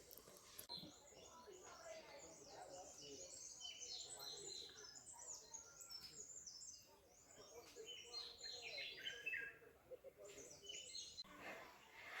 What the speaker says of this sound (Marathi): तुम्ही आत्ता पण ऐकू शकता की असं चिमण्यांचे वगैरे आवाज येत आहेत कारण की एवढी शांतता आहे इथे